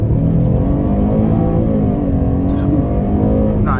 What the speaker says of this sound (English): We'll take a stop right here, try an acceleration off the line.